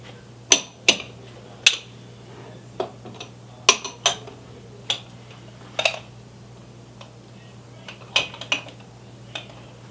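Ceramic soup bowls clink and knock as they are set one by one behind peacock plates in a small dish display, making sharp, close, irregular taps with quiet pauses over a faint steady hum.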